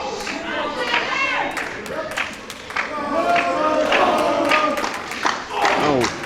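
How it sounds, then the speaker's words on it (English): A wrestling show crowd chants in rhythmic unison, with scattered claps cutting through a steady roar of the packed audience throughout. "And there's your famous chant"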